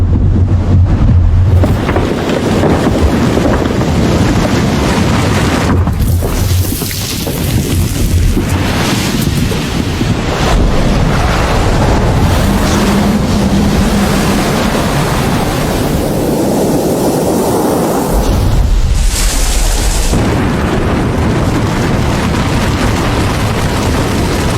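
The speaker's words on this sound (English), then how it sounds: "A colossal iceberg is born." A colossal iceberg calving from a glacier, a deep rumbling roar with crashing water and surf that persists loud and heavy throughout, buffeted by wind.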